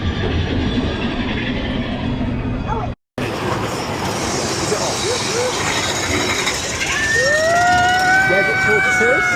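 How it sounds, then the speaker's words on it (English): A Disneyland train rumbles past with clattering mechanical noise while people talk nearby, followed by a rising and falling whistle-like squeal near the end. "There's the train."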